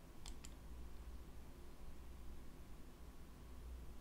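Two quick computer mouse clicks come in near the start, faint and close together, followed by steady low background hiss.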